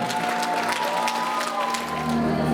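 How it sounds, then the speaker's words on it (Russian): A school audience at a graduation certificate ceremony claps steadily, a dense, even patter of many hands throughout, with a faint sustained tone underneath. "Давайте, ребята, еще раз подарим аплодисменты."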